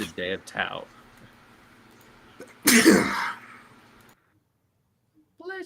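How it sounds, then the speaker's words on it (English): One loud, close sneeze cuts sharply through a casual watch-along chat of a Lakers vs Warriors basketball game, with brief speech before it and faint voices afterward. "Did you sneeze into your elbow?"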